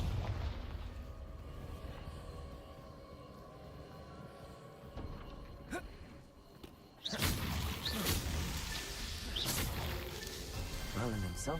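Spell explosions in Hogwarts Legacy burst out in a loud cluster, with booms and whooshing blasts coming right after a stretch of quieter game ambience and background music.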